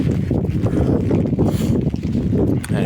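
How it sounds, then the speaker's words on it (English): Wind gusting across a bridge in the rain, a loud continuous rumbling buffet of wind noise on the microphone with no clear speech. "Rain, water, wet, yuck, and wind now on the bridge."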